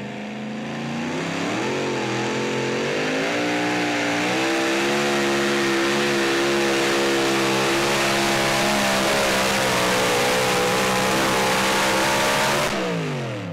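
A new Ford pulling truck named Spike roars under full load at a truck pull, a loud, sustained engine howl with rising and steady harmonic tones for about thirteen seconds before cutting off abruptly.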